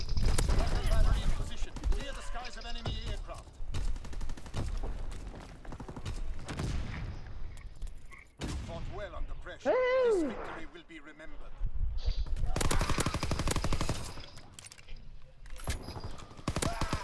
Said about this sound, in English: I tried to stop firing, I couldn't do it.